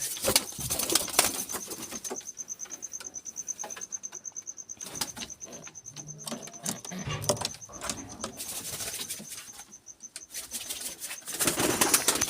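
Lakha, Sirazi and Giribaz pigeons flapping their wings in repeated bursts of fluttering, with soft rustles and knocks and a faint steady whine in the background.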